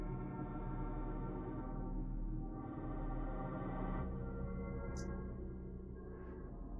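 A VCV Rack modular synthesizer patch, still a work in progress, plays a dense, steady drone with shifting tones and a faint high blip near the end, with no voices.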